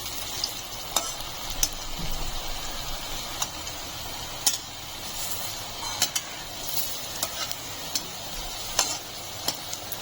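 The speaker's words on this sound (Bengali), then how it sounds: "এখন আমি এটাকে বড়া ভেজে নেব কিছুটা সাদা তেল গরম করতে বসিয়েছি" Small banana flower fritters frying in hot white oil, a steady dense sizzle with occasional sharp pops and ticks throughout, with no talking.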